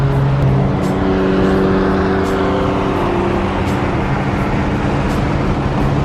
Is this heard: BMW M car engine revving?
yes